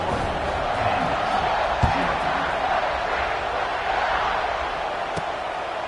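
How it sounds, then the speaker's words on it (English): Home crowd noise from a College Football 26 video game stadium, a steady broad roar running under a commentator's talk, with a brief thump near the two-second mark. "They got a lot to cheer about here at home."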